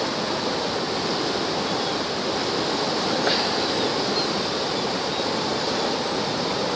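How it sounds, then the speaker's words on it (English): Floodwater of the Pecos River rushes past in a dense, steady roar, loud and constant from nearby, with no voices. "Now this is the Pecos River."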